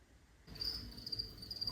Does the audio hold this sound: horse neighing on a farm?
no